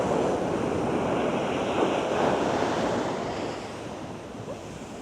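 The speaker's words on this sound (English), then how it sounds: "look at the swell of the waves." Large ocean swells breaking and rushing ashore at Baker Beach, San Francisco, a steady, loud roar of surf with wind buffeting the microphone, easing slightly toward the end.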